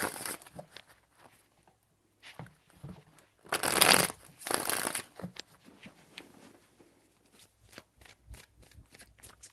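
Tarot cards being shuffled by hand in rapid riffling bursts, two louder sustained passes near the middle, with lighter scattered card taps before and after, close and alone.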